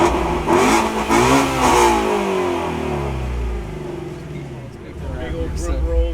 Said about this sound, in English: hear the exhaust completely scream